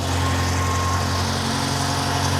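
A rebuilt, previously wrecked BMW M5 engine idles steadily nearby, a constant low droning hum with a faint whine, and no voices.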